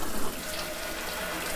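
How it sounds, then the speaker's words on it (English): Water sprayed from a tap into the head of a Bissell Green Machine vacuum cleaner: a steady, close hissing splash that runs throughout, a bit stronger at the start, with no talking. "I just pop it in here and I spray to try to get it out of there best I can"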